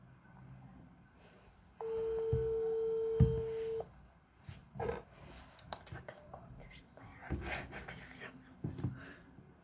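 A WhatsApp call rings once with a single sustained electronic tone lasting about two seconds, followed by soft whispering and rustling close to the phone.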